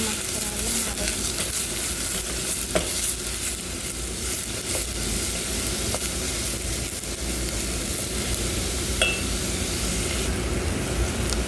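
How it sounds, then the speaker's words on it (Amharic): Onions frying in about a cup of hot oil, a steady close sizzle with occasional stirring scrapes and clicks running through the whole stretch. "በደንብ አድርገን እንጠብሰዋለን ማለት ነው።"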